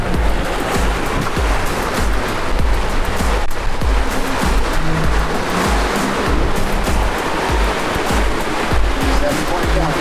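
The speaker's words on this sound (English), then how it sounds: "Those 6-foot waves behind us that are pushing us." Six-foot ocean waves surging behind a sailboat under sail, a steady broadband wash and rumble of surf and water rushing along the hull, continuous and fairly loud, with wind noise mixed in.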